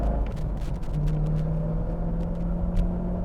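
A C5 Corvette Z06 engine drones steadily and close as the driver shifts into third gear, a low rumble with a rising whine and no pause in power.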